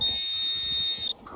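A handheld metal detector pinpointer emits one steady, high electronic tone for about a second before cutting off, close and clear, with faint outdoor background.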